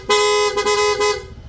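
A loud, bright aftermarket PIAA horn on a Honda ADV160 scooter blasts up close in a few quick pulses blended into one sustained honk, fading out at the end.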